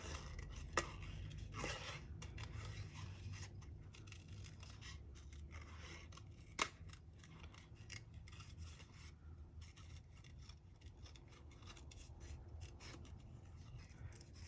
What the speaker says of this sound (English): gonna just trim up this edge right here